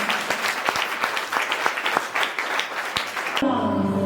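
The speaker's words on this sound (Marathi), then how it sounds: "जोरदार टाळ्या वाजवूया" Loud, steady applause from a church congregation fills most of the clip, then stops abruptly and gives way to a sustained tone.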